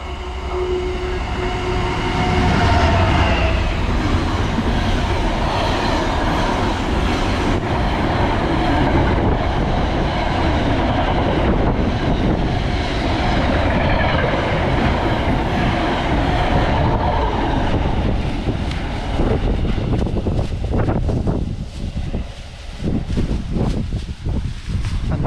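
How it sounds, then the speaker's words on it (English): A train rolls through a station at steady, loud volume for most of the run, wheels rumbling and clacking on the rails before the sound breaks up and eases toward the end. "The next train is passing through the station."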